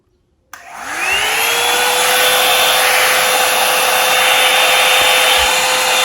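Revlon One Step hair dryer switching on at its low setting, then a steady, close, loud whirring blow with a constant motor whine and rushing air, running alone without talk.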